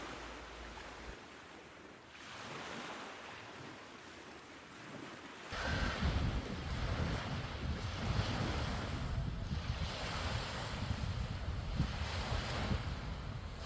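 Gentle Red Sea waves washing onto a resort beach, heard as a continuous surf wash mixed with wind noise on the microphone, growing louder partway through.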